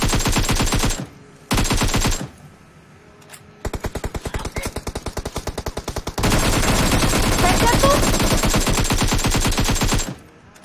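Automatic gunfire in the mobile shooter PUBG Mobile, loud rapid bursts of shots close up, several sustained strings separated by short pauses, the longest near the end, with no talk over them.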